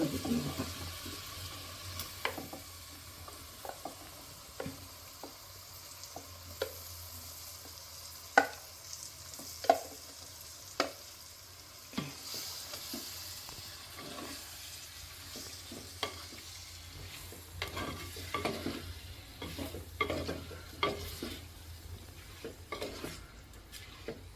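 Dried mango pickle fries in chili powder in a pan while a spoon stirs it, giving a soft continuous sizzle broken by repeated sharp scrapes and clinks of utensil on metal.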